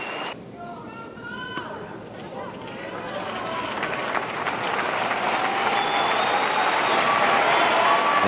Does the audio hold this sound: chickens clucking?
no